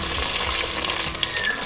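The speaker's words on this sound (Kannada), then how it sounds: "ಈರುಳ್ಳಿ ಸ್ವಲ್ಪ ಗೋಲ್ಡನ್ ಬ್ರೌನ್ ಕಲರ್ ಬರಬೇಕು, ಅಲ್ಲಿವರೆಗೂ ಫ್ರೈ ಮಾಡ್ಕೊಳ್ಳೋಣ" Onions frying in a pan for mushroom biryani, a dense close sizzle with bubbling crackle and light stirring, steady and loud for a short stretch.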